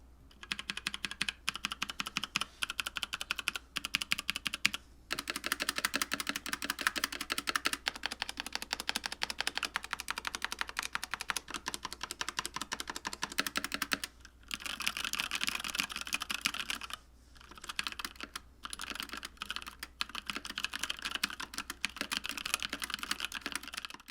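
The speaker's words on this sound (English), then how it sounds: "here we'll do a quick sound test of this keyboard" Steady, fast typing on a Logitech G413 SE mechanical keyboard with tactile switches, dense clicky keystrokes running continuously with a few brief pauses, close and clear with no voices.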